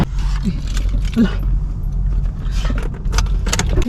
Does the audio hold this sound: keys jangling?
yes